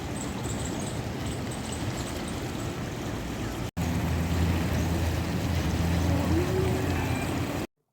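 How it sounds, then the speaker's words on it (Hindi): Ganga river waves flowing in flood at Haridwar, a steady loud rushing wash of water with wind noise throughout, briefly cut once, with a voice talking faintly over it. "समुद्र की जैसी लहरें आ रही है ऊपर, धीरे धीरे धीरे धीरे।"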